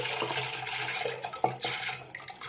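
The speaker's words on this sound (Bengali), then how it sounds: "খুব একটা বেশি জল দেব না, অল্প করেই জল দেব।" Water is poured into a pressure cooker holding soaked chana dal. The trickle and splash run steadily and fairly softly, with small gurgles, and no voices.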